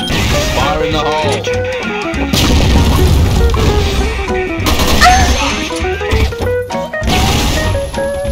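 Loud booms and crashes from grenades and gunfire in the shooter game CrossFire, laid over busy game music and effects, with a burst near the start and more blasts through the middle.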